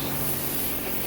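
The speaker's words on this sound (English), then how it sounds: "I'm gonna go ahead and spray my super degreaser on my engine." A steady, close hiss of degreaser being sprayed from a nozzle onto a car engine, one continuous burst.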